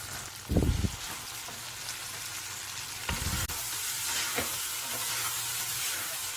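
Okra, onion and tomato sautéing in a pan give off a steady, close sizzle, with a few louder bursts of stirring or scraping. No one speaks.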